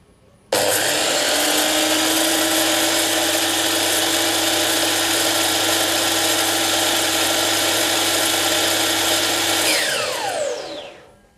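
A DeWalt DWS780 12 inch sliding miter saw starts abruptly and runs at a steady high-pitched whine for about nine seconds, then spins down. Loud and close, with no talk.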